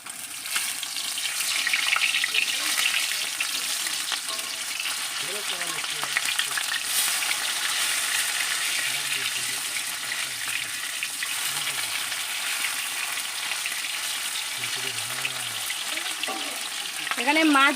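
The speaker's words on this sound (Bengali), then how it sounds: "এখানে মাছ ভাজা হচ্ছে" Fish sizzling steadily in hot oil for a Bengali New Year meal, a dense continuous crackle and hiss with faint low voices and clinks in the background.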